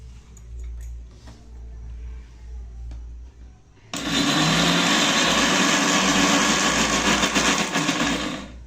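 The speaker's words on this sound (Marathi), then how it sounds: "इडलीसाठी मिक्सरमध्ये बारीक करून घ्यायचं चालू आहे" A kitchen mixer grinder starts abruptly and runs loud and steady, grinding soaked rice, urad dal, poha and sago into idli batter, after a few seconds of quiet room noise.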